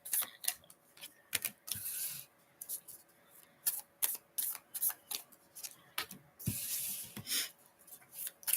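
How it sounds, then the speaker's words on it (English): Crisp papery riffles and taps of a tarot card deck being shuffled, arriving in quick bursts with short pauses between, close and fairly quiet with no talking. "I'm going to do another shuffle, ASMR style, if you like shuffling with decks."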